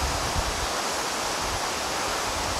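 A waterfall roars steadily close by on an uphill walk, a dense continuous rush of falling water with no breaks.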